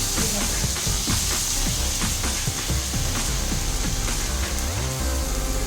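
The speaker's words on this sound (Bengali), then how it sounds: "এটাকেও আমি 5 মিনিট ভেজে নেবো।" Spice paste for a thin chicken curry sizzling and frying in a pan, a steady close hiss with scattered stirring scrapes and clinks running throughout.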